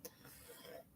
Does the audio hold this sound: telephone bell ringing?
no